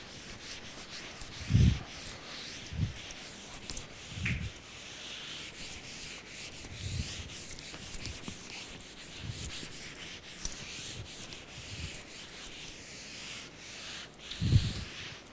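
Chalk-dusty blackboard in a university linear algebra lecture hall being wiped clean, a long run of soft steady rubbing strokes with occasional louder thumps of the eraser, faint room noise throughout and no talk.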